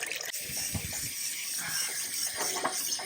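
Water steadily running and trickling out of a water heater as it is rinsed clean, a continuous hissing flow with faint clunks, close by.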